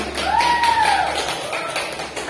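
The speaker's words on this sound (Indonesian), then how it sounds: "Ya kan, tepuk tangan" Classroom students clapping together after a teacher's prompt, a dense steady patter of many hands filling the room, with a brief whistle-like tone rising over it midway.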